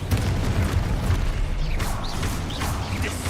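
A Confringo blast spell explodes in the Hogwarts Legacy video game, a loud, continuous booming roar with crackling bursts and whooshing magical effects layered over it, close and sustained throughout.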